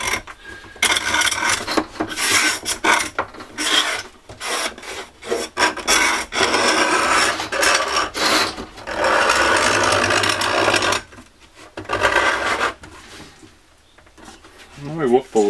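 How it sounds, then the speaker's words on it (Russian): A homemade awl compass scribes a circle into wood, giving repeated close scratchy rubbing strokes with brief pauses, the scraping loud and near throughout. "окружность любого диаметра с помощью вот такого примитивного циркуля сделать элементарно"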